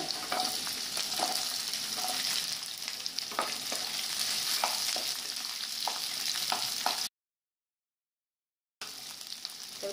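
Garlic, green chilli and onion fry in hot oil in a pan for a jackfruit chilli, a steady close sizzle broken by occasional stirring scrapes, with a brief silent gap before the sizzling resumes.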